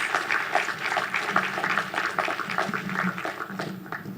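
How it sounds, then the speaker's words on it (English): Audience applause after a presentation at an art event, a steady spread of clapping from a crowd that holds evenly throughout, with a faint voice or two mixed in. "I think we should give him another round of applause"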